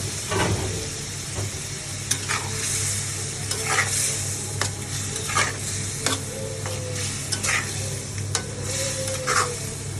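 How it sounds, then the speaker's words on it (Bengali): Shrimp fries in a pan while being stirred, with a constant sizzle broken by repeated scraping strokes of the spatula, close and loud, with no voices. "এখন ভেজে রাখা চিংড়ি মাছটা আমি কষাই নেব।"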